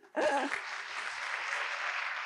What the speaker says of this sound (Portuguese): A plateia aplaude calorosamente a entrada da autora Isabelle Anchieta